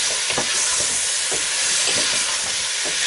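Chopped vegetables for Spanish-style pork with chickpeas, frying hard in a pan, giving a loud, continuous hiss and sizzle with the rhythmic scrape of stirring pulsing through it, close up and without speech.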